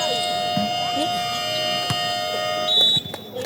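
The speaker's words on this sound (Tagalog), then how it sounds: "Buzzer dito. That's the end for our first quarter." A long, steady electronic buzzer tone ends the first quarter of a basketball game, sounding over a noisy, echoing crowd, then cuts off near the end.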